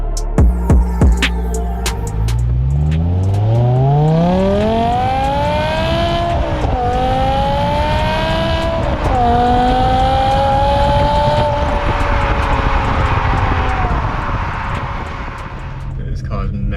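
A BMW M5 with a V10 engine revs hard and screams, its pitch climbing in long rising sweeps, dipping briefly and climbing again. The sound is loud and close, and it holds for most of the stretch before easing off near the end.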